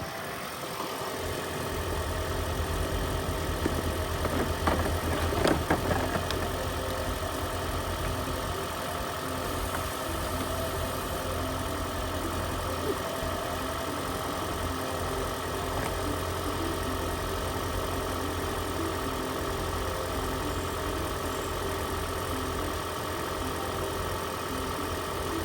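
A vehicle engine idles steadily for the whole stretch, a constant mid-low hum with a faint rhythmic knock. A brief clatter comes early on, and no voices are heard.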